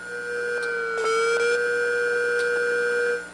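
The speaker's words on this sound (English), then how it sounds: "That was the sound of the actual platter motor failing and then restarting." Hard drive platter motor failing and restarting: a steady electronic hum dips briefly in pitch, then recovers, with a few faint clicks and no voices.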